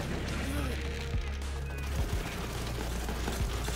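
Assault rifle gunfire in the shooter game Borderlands 3, bursts of rapid shots and thumping impacts piling up over a dense, loud mix of combat noise, with a voice talking over it.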